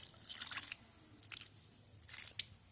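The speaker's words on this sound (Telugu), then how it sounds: "ఇలా వాటర్ అయితే ఇచ్చుకున్నాక చూడండి దిగిపోతుంది కదా" Water is poured onto freshly planted chrysanthemum cuttings in soil, three faint, short bursts of splashing and trickling separated by quiet pauses.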